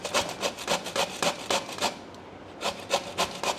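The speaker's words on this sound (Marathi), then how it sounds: "त्यासाठी मी ही कैरी आहे सोललेली, ती आता दाखवते किसून" A peeled raw green mango being grated, close and steady: repeated rhythmic rasping strokes with a brief pause in the middle, no voices.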